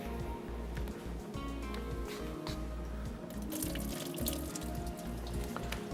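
Rice rinsed with water in a bowl for a desi cake recipe, close sloshing, dripping and trickling that runs steadily with no talk.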